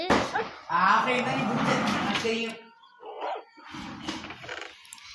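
A dog in the video game Craftman barks and yips in short bursts, mixed with game sounds and someone talking over it.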